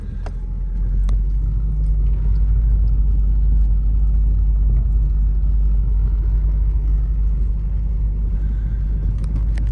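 A car drives along a farm road in rural Elliott County, Kentucky, its engine a steady, loud low rumble with continuous road noise and faint rattles from the cabin.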